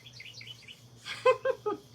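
Outside a window, a bird gives a few soft high chirps, then three louder, brighter notes in quick succession near the end, heard over a low steady hum.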